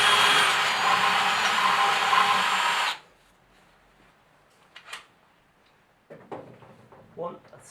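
A power drill bores holes in a Honda cylinder head during a DIY head pressure test, making a loud, steady, close whirring grind for about three seconds before it stops, followed by a few faint clinks and handling noises.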